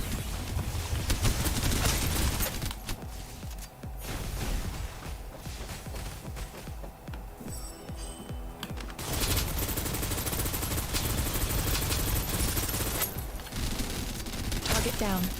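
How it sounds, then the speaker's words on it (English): Suppressive gunfire in Snowbreak: Containment Zone rattles in dense bursts across the whole stretch, thinning for a few seconds in the middle before pounding back up, with game voice lines mixed in. "Suppressive fire."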